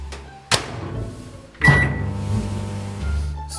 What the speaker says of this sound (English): Place the jar in the microwave oven off-center on a microwavable plate.